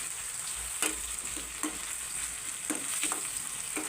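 Tomatoes and onions frying together in a pan, softening as they're stirred: a steady close sizzle with several distinct scraping strokes of a spoon spread across the clip, no voices.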